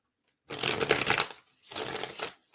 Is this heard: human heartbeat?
no